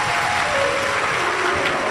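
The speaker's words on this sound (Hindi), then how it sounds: "एक बार जोरदार ताली बजाकर स्वागत करें।" A large crowd at a Hindu Shiv Mahapuran religious discourse in Hapur claps in a dense, loud burst of applause, steady for the whole short stretch with no speech over it.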